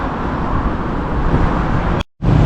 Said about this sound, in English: I'm trying to talk louder for the traffic.